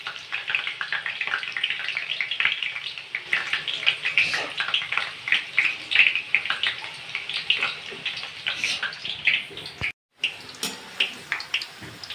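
Spicy shev frying in hot oil and being flipped, a steady loud sizzle and bubbling hiss running throughout, close by, with a brief dropout near the end.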